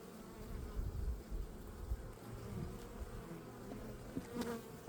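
Honey bees buzz around an open beehive during a hive inspection, a low, continuous droning hum with some busier swells, moderately quiet and steady, with no voices.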